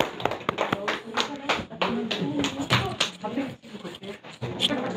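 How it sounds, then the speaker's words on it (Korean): Church congregation clapping in rhythm during a Sunday worship service, a steady run of sharp claps mixed with voices over about five seconds. "우리 박수로 하나님께 영광을 돌립니다"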